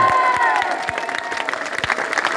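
An audience applauds at a talk, a close burst of dense hand clapping with scattered sharper claps, fairly loud and steady throughout.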